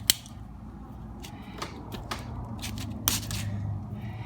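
Floral wire gets cut in a few sharp close snips and clicks, one at the start and a louder snap near the end, with light handling in between and no talking.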